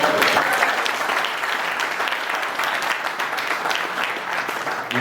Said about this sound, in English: You're getting an applause after every answer.